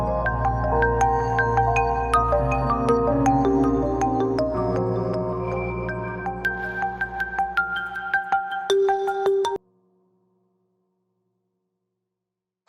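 A mobile phone ringtone plays as a bright, busy electronic melody for around nine seconds before cutting off abruptly, leaving silence, with no voices.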